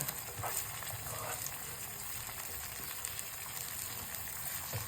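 Beaten eggs for a masala omelette hitting a hot pan, a steady broadband sizzle and hiss running continuously at close range with no talk.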